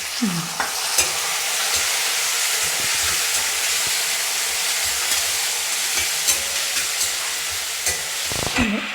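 Onions frying in a pan for a semi-dry curry, a steady loud sizzle and hiss with occasional scrapes of stirring, no talking.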